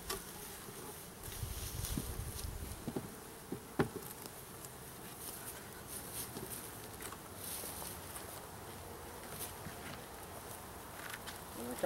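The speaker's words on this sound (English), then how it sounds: "It's my first time putting bees in the beehive." Honey bees buzz and hum close by while being installed into a farm beehive, a continuous droning swarm with occasional soft knocks and shuffling underneath.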